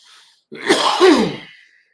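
A single sharp, loud cough bursts out close by during a hockey pregame show, alone in an otherwise quiet moment.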